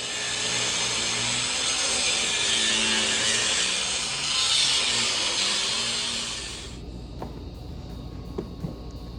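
A power tool saws off the steering stop brace on a budget drift kart build, a loud continuous whining cut for about seven seconds that stops abruptly, leaving a quiet room with a few faint clicks.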